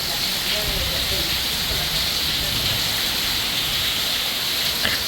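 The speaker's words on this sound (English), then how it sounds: "It's very windy and raining hard." Heavy rain driven by strong wind on a night outdoors, a dense, steady hiss of falling water that fills the whole stretch at an even, loud level with no clear breaks.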